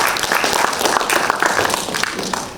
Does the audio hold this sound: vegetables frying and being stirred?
no